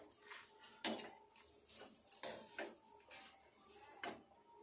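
A utensil clinks and knocks against a cooking pan while grated coconut is sautéed for chutney, giving a few sharp, separate metallic taps over a quiet kitchen background.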